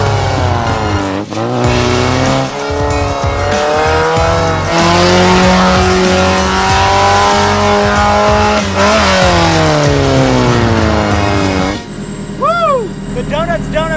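A Miata-based tank spins through donuts, its engine revving hard and continuously with rising and falling pitch, loud and close, while grinding, scraping and squealing noises accompany the rotation; a high-pitched whistle enters near the end.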